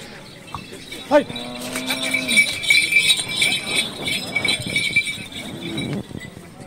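Bulls at a cattle market at Lasur Station let out a short moo, then a longer one nearby, amid clinking bells, market chatter and general bustle.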